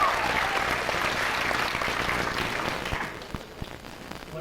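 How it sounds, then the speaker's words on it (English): A school senior assembly audience applauds: a broad wash of many hands clapping, fairly loud at first and thinning out after about three seconds into a few scattered claps. "Let's give them a round of applause."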